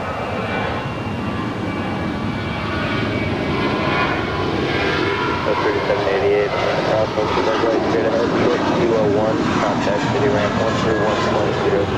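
An Embraer E175 regional jet on arrival at Los Angeles International Airport makes a steady, loud engine roar that builds slightly and holds throughout, with wind-like rumble beneath.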